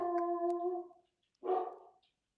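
A dog barks twice at close range in a quiet room, the first bark long and tonal and the second shorter and rougher, with a brief silence between them.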